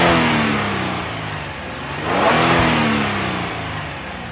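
A 2025 Genesis G70 Sport with Active Sound Design set to its largest change, revving once under a steady engine drone, the pitch rising and falling in a single sweep, close and fairly loud.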